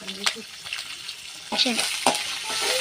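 Small onions frying in oil in a pan for a chicken curry, a soft sizzle broken by sharp clinks and scrapes of stirring, with brief vocal sounds over the cooking.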